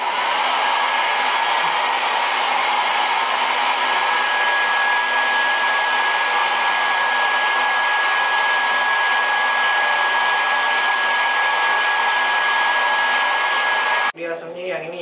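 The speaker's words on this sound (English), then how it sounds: "Hair dryer." A hair dryer blows in a steady, loud whir with a constant high whine, running continuously before cutting off abruptly near the end.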